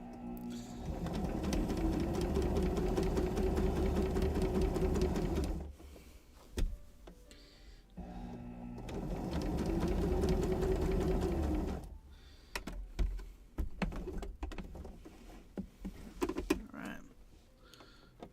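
A sewing machine runs in two long, steady bursts of rapid stitching while basting circle skirt pieces together, with pauses, fabric handling and a voice speaking in between.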